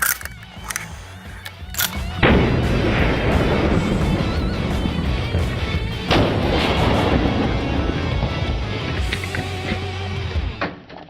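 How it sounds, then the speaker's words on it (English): A Winchester Model 1887 shotgun loaded with buckshot fires into a stack of graphics cards, with loud booming blasts followed by long rumbling, rattling debris and clatter that fades out. "Model 1887 loaded with buckshot."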